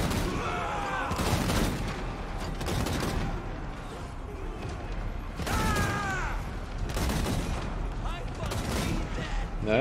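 Cannon and artillery volleys in the strategy game Total War: Warhammer 2 crack out in loud bursts through a dense battle din, with game voices over the top.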